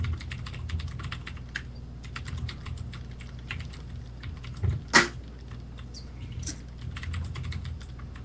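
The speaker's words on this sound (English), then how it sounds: "Sorry, I'm typing something in the chat here." Rapid clicking keystrokes on a computer keyboard continue throughout, irregular and close, with a couple of louder knocks midway and a low room hum underneath.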